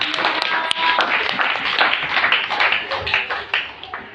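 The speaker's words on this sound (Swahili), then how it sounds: "Pigia Yesu makofi" Congregation at a church service clapping for Jesus: a dense, lively patter of many hands, fairly close and continuous, slowly thinning out toward the end.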